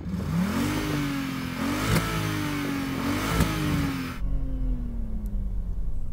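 An Audi RS6 C5 engine revs repeatedly in a series of rising and falling pulls, a close, throaty drone, and then settles to a lower idle as the wideband roar cuts off near the end.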